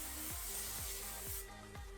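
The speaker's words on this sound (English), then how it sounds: "Get this big sexy hairspray and spray my hair." Hairspray hisses onto hair in short, quiet bursts, several spritzes in quick succession close to the microphone.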